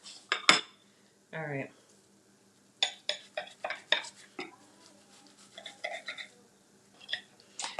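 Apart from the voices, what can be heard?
knife cutting food into triangles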